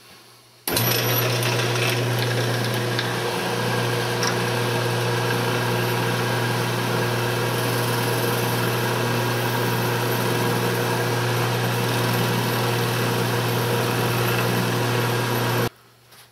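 A redwood vase spinning on a woodturning lathe under light sandpaper contact gives a loud, steady motor hum with an even abrasive hiss that holds unchanged for about fifteen seconds, then cuts off.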